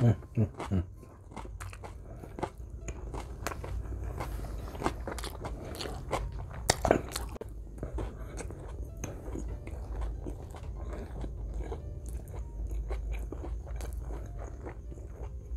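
Mexican menudo soup being eaten up close, with repeated crunchy bites, chewing and occasional utensil scrapes in an irregular rhythm, loud and near, with no talk.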